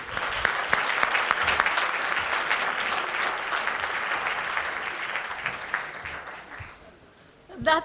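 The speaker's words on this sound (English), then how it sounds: "2 thumbs up and a round of applause for everybody here tonight" An indoor audience at an evening treaty signing event between Toronto and Film City claps in dense, sustained applause for several seconds. It fades near the end, and a voice then begins.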